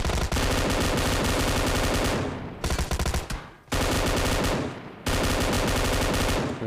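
Loud, sustained automatic gunfire from an M4 rifle and shotguns in the battle-royale game BGMI, coming in long dense bursts with brief gaps between them and no talking.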